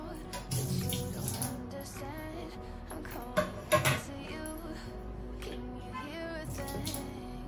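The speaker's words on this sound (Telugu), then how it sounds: "దీని రసం మొత్తం వాటర్లో కలిసి డికాక్షన్ కాగిన తర్వాత మనము వడగట్టుకుందాం." Boiled herbal tea decoction of ginger, black pepper, tulsi leaves and jaggery being poured and strained in a kitchen, with soft trickling liquid and light clinks of utensils, fairly quiet and close.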